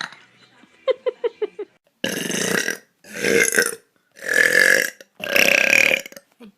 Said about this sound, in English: you want to burp for me?